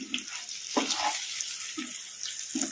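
Stuffed egg masala frying in a hot kadai after the stove is switched off, giving a soft, close sizzle with a few short stirring scrapes and no talk.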